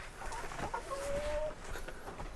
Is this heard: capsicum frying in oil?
no